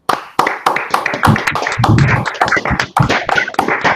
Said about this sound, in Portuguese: uma salva de palmas aqui para o Daniel